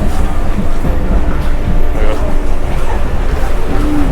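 Inside a MEMU local train on the Diva–Roha line during heavy rain, a loud continuous rumble and rattle of the moving carriage fills the space, with background voices murmuring.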